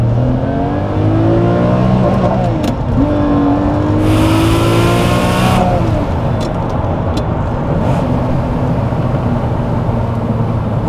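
A Lamborghini V12 accelerates hard, its engine roaring loud and close with revs climbing repeatedly through gear changes and a brief higher-pitched surge midway.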